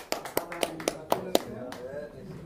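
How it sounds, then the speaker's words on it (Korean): A church congregation at a memorial service claps together in a short run of sharp, fairly close claps that fade after about a second and a half, leaving low murmuring. "다 함께 박수로 영광 돌립니다"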